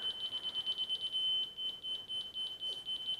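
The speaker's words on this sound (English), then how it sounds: "Turn it on. You heard it beep." A rapid series of thin, high-pitched electronic beeps repeats steadily, fairly quiet against a faint hiss, with a brief longer tone partway through.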